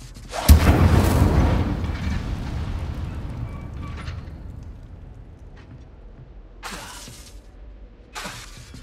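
Incendio fire spell cast in Hogwarts Legacy, a sudden loud whooshing blast that rumbles and fades over several seconds, then two shorter crackling flares later on; no talking.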